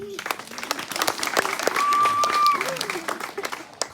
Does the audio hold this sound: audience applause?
yes